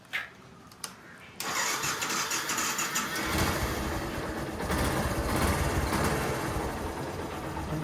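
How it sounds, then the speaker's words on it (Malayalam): A Yamaha FZ V1 motorcycle, just fitted with a new clutch disc at home, starts after a couple of faint clicks, then settles into a steady, close engine idle. "വണ്ടി സ്റ്റാർട്ട് ചെയ്ത് നോക്കാം."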